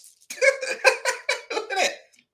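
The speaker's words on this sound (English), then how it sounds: "So I got hiccups." A run of about seven quick, voiced hiccup-like bursts in a steady rhythm over roughly two seconds, close and fairly loud, with no other talk alongside them.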